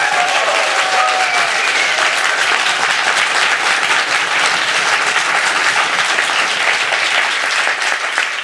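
Sustained audience applause as a vote at a science slam in Freiburg, a loud, steady wash of many hands clapping with a few whoops, holding evenly throughout.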